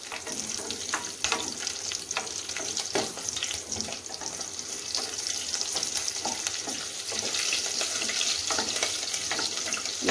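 Chillies fry in hot oil for menthi pulao, a close, continuous crackling sizzle with frequent sharp pops and spatters, no voices.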